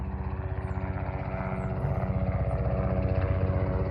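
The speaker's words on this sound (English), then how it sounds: "Helicopter flying." A helicopter flies overhead at an outdoor spot, its steady rotor chop pulsing loud and near throughout, growing slightly stronger in the second half.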